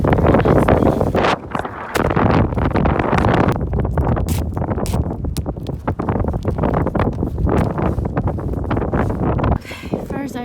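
Strong wind buffets the microphone on a Scottish beach, loud roaring gusts with sharp bursts and brief lulls, sustained throughout.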